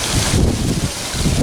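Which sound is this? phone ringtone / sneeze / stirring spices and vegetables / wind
wind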